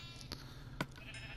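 A Minecraft sheep gives one short, clear bleat near the end, over a quiet game background; a softer call sounds earlier.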